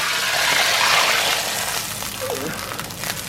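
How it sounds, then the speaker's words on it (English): Hot oil pours into a pan for roast potatoes with a steady, fairly loud rushing sizzle that eases slightly toward the end. "And we're going to pour the oil, and we'll see how hot it is."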